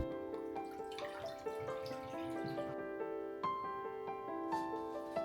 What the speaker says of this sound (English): I filled up the containers with water.